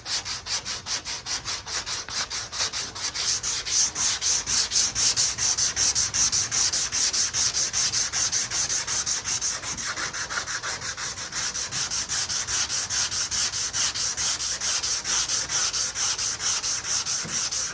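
Steady, rhythmic sanding strokes rasp back and forth across a hard fiberglass part, close and continuous, with no voices.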